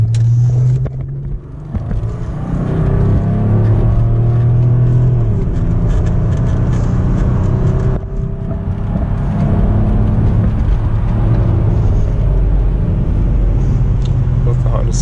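A Mercedes W210 with an OM606 diesel engine drives and accelerates, its loud low drone rising and falling as it pulls, with road rumble throughout and people talking over it.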